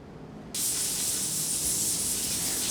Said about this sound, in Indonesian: Panaskan sampai terlihat uap keluar dari klep udara.